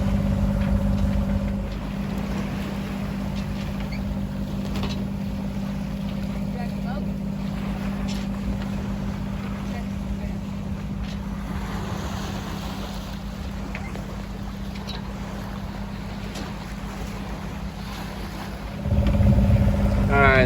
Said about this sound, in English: got both sails flying a little bit, we're motoring